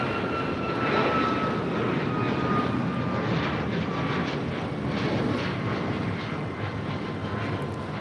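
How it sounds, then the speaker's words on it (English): A United Airlines Boeing 737 MAX 9 takes off at LAX, bound for Washington Dulles. A loud, steady jet-engine roar holds for the full stretch without a break, and no voices are heard. "This is United Airlines 352 taking off to Washington Dulles on a MAX 9."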